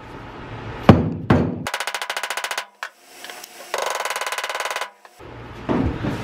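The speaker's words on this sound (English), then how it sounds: "Let me try hitting it with a mallet." Mallet blows against a pickup truck bed before spray-in bedliner work: two loud single knocks, then rapid rattling bursts of repeated strikes with brief pauses between, close and clear with no talk.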